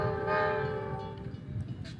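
A train passing near a station in Fairfield-Vacaville, its loud sustained horn ringing out over the rumble of the moving cars before fading, with no talking.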